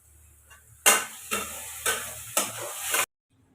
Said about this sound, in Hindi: प्याज भी भुजा गया है और प्याज रेड हो जाता है ना तभी फ्लेवर आता है सब्जी का अच्छा